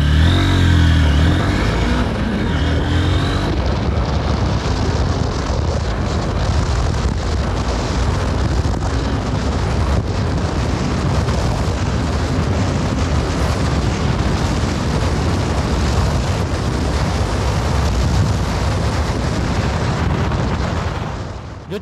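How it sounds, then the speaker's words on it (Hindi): A 2023 Honda Hornet 2.0 motorcycle fires up and launches for a 0 to 100 km/h test, roaring loudly and steadily, a dense, rumbling exhaust noise that fills the whole stretch without pause. "तो let's start the bike and launch it."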